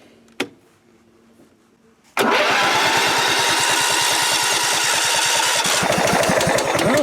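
A Kohler Command small engine on a garden tractor cranks and catches after a quiet pause, then runs loud and steady with a rapid chugging pulse close by.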